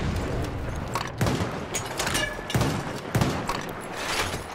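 Scattered gunshots crack in a Battlefield 1 World War I multiplayer match, several sharp reports a second or so apart over a steady rumbling battle din, moderately distant.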